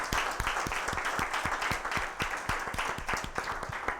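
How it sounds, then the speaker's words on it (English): An audience applauds panelists at the close of a science-to-startup event, steady dense clapping with some louder individual claps standing out, sustained for several seconds. "a round of applause for our panelists"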